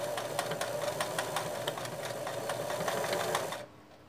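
A sewing machine stitches a children's rug in a fast, even run of mechanical clatter that holds for about three and a half seconds, then stops abruptly into near silence.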